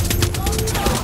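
Rapid gunfire at ships in Far Cry 6, a loud, continuous rattling fusillade of closely spaced shots throughout the short burst.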